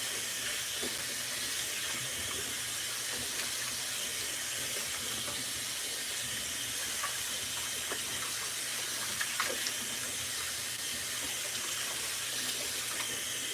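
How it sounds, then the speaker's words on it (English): Cold tap water runs steadily over potatoes being rinsed in a kitchen sink, a continuous soft splashing hiss at low level with faint knocks, and no talk. "Wash these down with some cold water."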